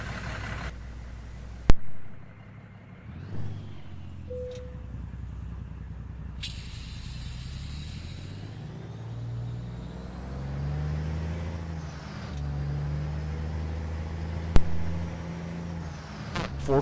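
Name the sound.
Peterbilt truck Cummins engine mod, American Truck Simulator video game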